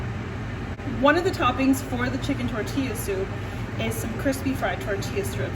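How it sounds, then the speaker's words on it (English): A kitchen range hood vent fan, switched on automatically by heat from the stove, drones as a steady low hum beneath a person talking throughout. "when there's so much heat coming from the stove, it automatically turns the vent hood on"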